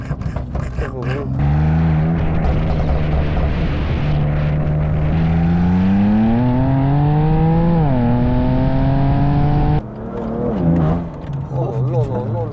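A BMW M2 Competition with around 500 hp accelerating hard, its engine note rising steadily through a long pull before a shift, loud and close with excited voices talking around it.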